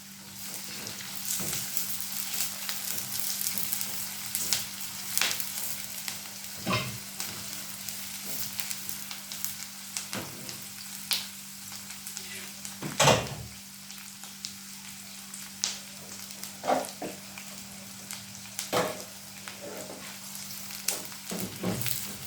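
Onions sizzle and fry steadily in a pan for fish soup, a continuous crackling hiss with occasional stirring scrapes and clatter, close and fairly loud without pause.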